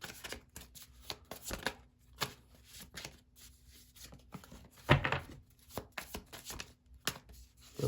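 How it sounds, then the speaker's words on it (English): Tarot cards are shuffled close up in quick, papery riffles and taps, with irregular bursts and short pauses between them. "I'm gonna give this another shuffle."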